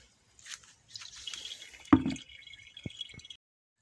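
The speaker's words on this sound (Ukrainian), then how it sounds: "Добавляю водички і віджимаю." Water is added to harvested tomato seeds and the wet mass is squeezed out by hand, giving soft squishing and dripping sounds close by, with one louder wet squelch and a few scattered drips.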